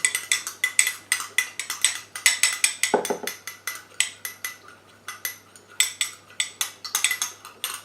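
A spoon stirs a homemade face serum in a small bowl, giving steady, rhythmic clinks and scrapes of metal against the bowl, close and clear with no talking.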